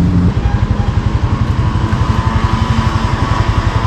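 A motorcycle engine rumbles loudly close by in a fast, even low pulse, a steady idle-like chug that runs throughout on a mountain ride in Atok, Benguet.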